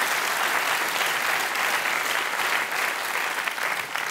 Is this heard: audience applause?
yes